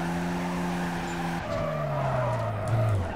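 Car tires screech steadily through a long drift in Need for Speed Carbon, a loud sustained squeal over a revving engine, with the pitch sliding lower as the slide carries on.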